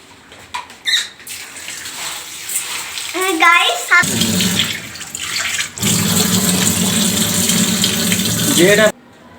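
Rice, lentils and chopped carrot and long beans are washed in water, with tap-like running water and sloshing that grows into a steady loud rush, alongside a voice and squeaks early on.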